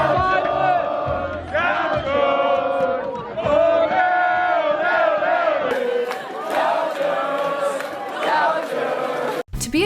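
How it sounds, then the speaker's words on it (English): University students at UCSB shout the gaucho cheer in unison, a loud, sustained crowd chant of rhythmic vocal bursts lasting nearly ten seconds before cutting off abruptly. "you better know our cheer"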